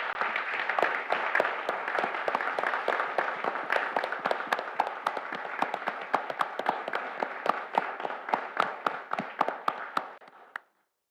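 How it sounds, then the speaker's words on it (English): A room full of people at a county board meeting gives a long burst of applause, dense overlapping claps that stay strong, thin out slightly and stop abruptly near the end. "huge round of applause for these guys"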